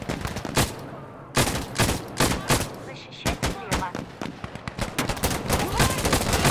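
Rapid gunfire in the video game Insurgency Sandstorm, with dense volleys of loud, sharp shots and machine-gun bursts cracking in clusters throughout, while a player talks between them.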